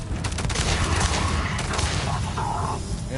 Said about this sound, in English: Throw a grenade inside the space station.